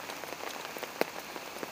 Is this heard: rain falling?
yes